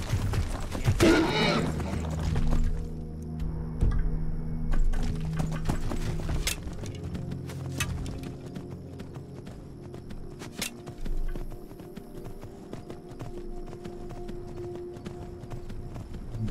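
A horse gallops in Skyrim, its hooves clip-clopping in a steady, rapid rhythm, close and clear under light game ambience, with a brief snort or whinny near the start.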